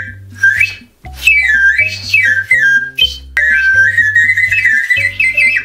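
A toy harmonica blown in short bursts gives loud, reedy whistle-like tones that slide and waver in pitch over a steady low buzzing drone, with brief gaps between breaths and no talking.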